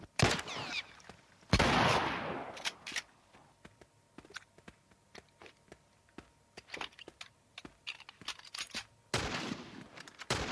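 Gunshots in a modded version of The Last of Us video game: loud blasts at the start and end, with scattered sharp cracks and shots between them, heard alone against quiet gaps.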